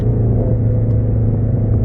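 Ford Mustang GT350 engine revving during a downshift, a loud, steady low rumble that holds throughout without any speech.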